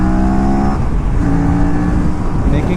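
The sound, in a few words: Aprilia RS 457 motorcycle braking hard with Brembo race pads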